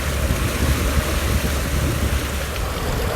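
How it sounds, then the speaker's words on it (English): Heavy rain pouring down on a boat out on the Huangpu River in Shanghai, a loud, dense, unbroken hiss of rainfall mixed with wind and water noise, no voices. "We're out here on the Huangpu River and it's pouring down."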